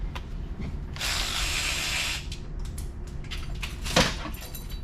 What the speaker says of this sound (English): let's see if we can't get the electric ratchet on it